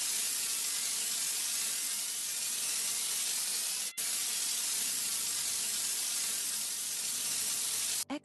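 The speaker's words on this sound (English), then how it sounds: "Squeeze the handle to spray foam at the fire." Foam fire extinguisher spraying in a fire safety VR game: a steady, loud broadband hiss running continuously, with a brief break near the midpoint and a cutoff at the end.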